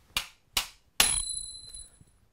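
A dull tip snapped off a utility knife blade: three sharp, close metallic cracks in quick succession, the last ringing briefly with a thin tinny tone before fading, with no talk.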